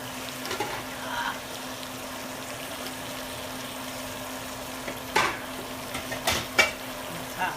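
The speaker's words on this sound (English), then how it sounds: "I'm just going to let that sort of simmer down for a minute" Food simmering and sizzling in a pan, a soft continuous crackle with a faint steady hum, broken near the end by a few louder clanks and scrapes of a utensil.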